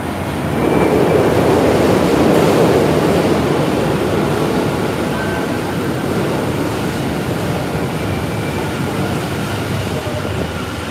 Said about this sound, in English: This train, the Denin-Toshi line,